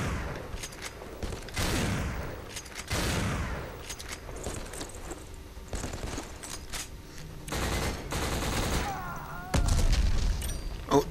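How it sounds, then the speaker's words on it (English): A grenade launcher firing grenades in a video game, heavy booming blasts and chaotic gunfire rolling through the scene with muffled thuds, fairly loud and continuous. "Oh, those are grenades I'm firing?"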